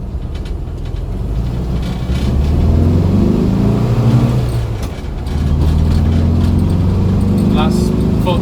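A VW T2 camper fitted with ICT34 carburettors accelerating hard with the pedal floored, the air-cooled engine droning and rising in pitch, dipping briefly at a gear change, then pulling again loud and close.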